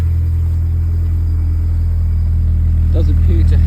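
A Mini Cooper S with a Miltec exhaust, crash damaged, idles with a steady low engine rumble, close and loud, with brief speech near the end.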